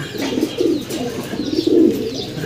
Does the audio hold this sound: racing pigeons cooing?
yes